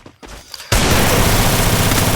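Gunfire in a one-on-one shooting video game erupts after a few soft clicks, becoming a loud, sustained burst of rapid shots that fills the rest of the moment without any talk.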